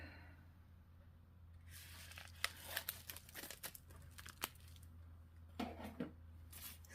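Plastic packages of diamond painting drills are cut and opened, giving scattered crinkling, tearing and snipping noises close by, with quiet gaps between them.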